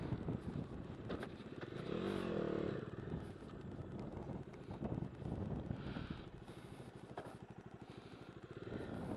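A Bajaj Dominar 250 BS6 motorcycle rides off-road, its engine droning and revving unevenly with rattling over rough ground and wind buffeting the microphone, fairly distant and even in level.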